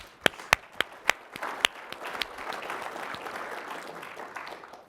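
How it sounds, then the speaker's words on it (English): A conference audience responds to a winter conference speaker, starting with a few loud, isolated claps near the mic that swell into a broad, continuous round of crowd applause. "Give yourselves a nice round of applause."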